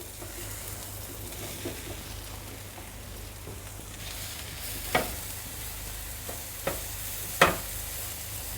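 Mushrooms hit a hot pan of softened onion and garlic, giving a soft steady sizzle with a few sharp clacks of stirring utensils against the pan, close and without talk.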